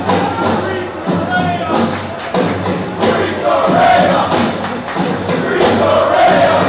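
Student section crowd at a high school basketball game in a packed gym, cheering loudly and continuously with rising roars, shouts and thumps throughout.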